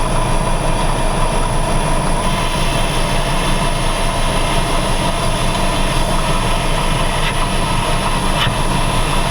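A hand-fed mini lathe turns a decorative speed-control knob, giving a steady, loud mechanical drone with a continuous high whine and a low motor hum, with no pause across the stretch.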